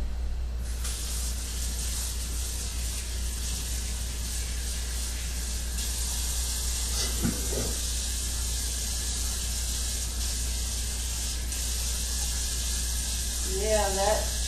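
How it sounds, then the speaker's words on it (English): Tap water runs steadily over a spatula during a shea butter body mix session, a constant close hiss with a brief clatter partway through and a louder splash at the end. "I'm going to rinse off my spatula"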